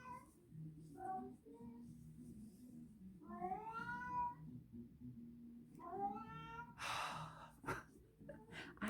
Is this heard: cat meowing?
yes